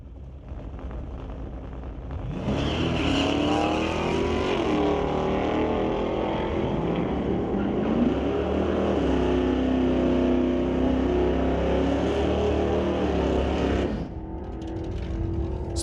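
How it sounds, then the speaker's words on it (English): A Nova and a Chevelle launch down a drag strip with a loud, sustained engine roar that rises through the gears, holds for about twelve seconds, then cuts off, heard from a trackside spot. "Nova versus Knapstrap Racing Chevelle for the second qualifier."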